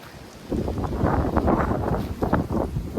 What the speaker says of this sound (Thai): ดูลมนะคะ ดูลมหนาว